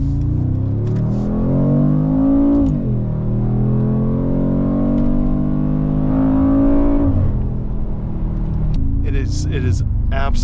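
2024 Mercedes-Benz AMG G63 SUV engine accelerating, a loud, close, continuous drone that climbs through gears with two clear shift dips, then brief higher sounds at the end.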